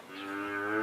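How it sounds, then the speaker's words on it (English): Cattle give one brief, low, drawn-out moo, fairly faint, with nothing else around it. "there's going to be a lot of cattle and stuff moving around"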